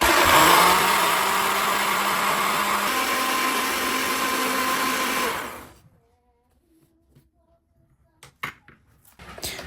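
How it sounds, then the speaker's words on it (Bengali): A kitchen blender grinds soaked basmati rice with water into a smooth paste, running loud and steady for about five seconds before switching off, followed by quiet clinks and handling noises. "দিয়া ব্লেন্ডার করলে মু একবারে স্মুথ করিয়াকে ব্লেন্ডার করমু"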